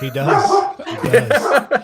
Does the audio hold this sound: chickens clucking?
no